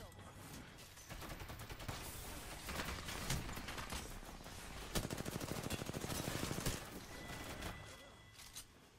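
Rapid bursts of automatic weapon fire in an Apex Legends match, fairly faint overall but steady, swelling into a denser stretch of quick shots midway, with a player's voice over the shooting.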